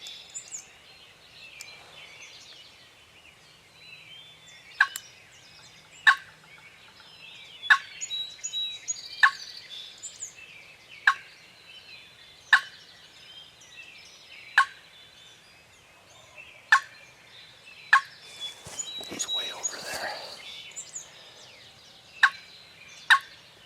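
A wild turkey gobbler gobbles repeatedly in the distance amid other birdsong in the early morning, with sharp clicks recurring at a regular pace.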